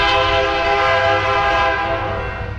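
A train rolls past in Fayetteville while its horn blares loud and close in one long sustained blast over the rumble of the cars, fading slightly at the end.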